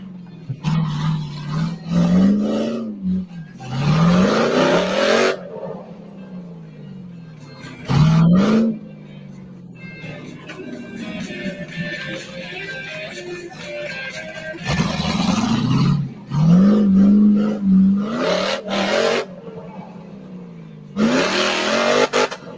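UTV off-road vehicle with big tires clawing through dirt, engine revving hard in repeated loud bursts that rise and fall in pitch, with quieter idling stretches between pulls, close by.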